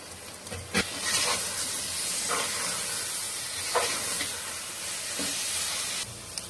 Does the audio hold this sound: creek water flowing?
no